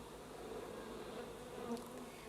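A steady, low buzz of a bee swarm drones throughout in an animated cartoon, like many bees humming together, fairly quiet and continuous with no voices.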